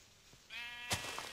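A Minecraft sheep bleats once, a wavering nasal cry with a sharp click partway through, clear and close.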